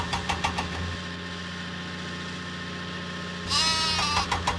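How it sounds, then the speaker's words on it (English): A sheep bleats in a Thomas and Friends train video game, a short wavering cry near the end over a constant hum of an idling engine, with a few faint clicks at the start. "Thomas must deliver the sheep to Farmer McCall's farm. Help Cranky find the sheep"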